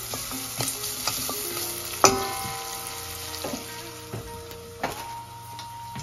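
Onions and thyme frying in a pan for red wine gravy, a steady close sizzle with occasional clicks and scrapes of stirring.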